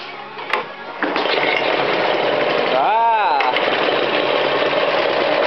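A Honda engine idles just after its carburetor jets were replaced, settling into a steady, continuous running drone that holds evenly from start to end after a short opening burst.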